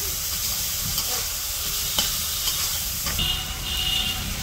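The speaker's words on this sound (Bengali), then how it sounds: "মাছগুলা দিয়ে কষাইবো।" Fish being sautéed in a pan, a steady loud hissing sizzle with faint stirring clicks throughout, no talk.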